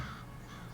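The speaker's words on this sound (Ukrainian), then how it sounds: "Ворони?" Crows cawing in the video game F.E.A.R., a short, faint, harsh call over a steady background hum.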